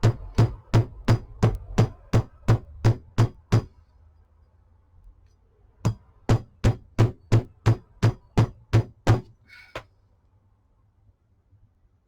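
A hammer strikes a paper bead made from recycled Christmas cards in two fast, even runs of about a dozen sharp, loud taps each, separated by a short pause.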